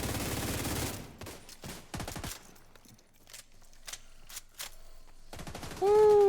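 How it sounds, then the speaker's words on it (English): Gunfire in The Division 2 during a fight in Brooklyn, with a dense burst of rapid shots followed by scattered single and clustered reports, some loud and some fainter, ending in a louder tonal game effect. "I'm putting a lot of shots into him"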